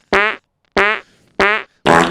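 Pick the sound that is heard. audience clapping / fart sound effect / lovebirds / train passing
fart sound effect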